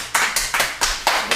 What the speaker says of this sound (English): clap, clap. Don't forget to clap.